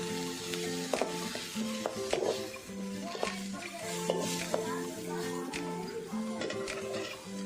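Masala fries in hot tempering oil with a quiet sizzle, joined by stirring scrapes and clinks against the pot. Music plays throughout.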